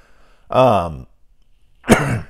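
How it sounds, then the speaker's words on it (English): A rough throat clearing near the mic, followed by a second short, harsh clearing burst after a brief pause. "I cannot clear my throat"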